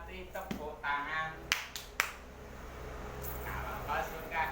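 Hands clapping along to a children's action song at a humanitarian inclusion activity session, a few sharp separated claps between stretches of group singing.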